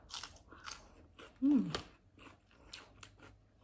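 Crisp, crunchy bites of fresh vegetables eaten close up during a dinner with Lao-style papaya salad: a few sharp chewing crunches, with one louder bite in the middle.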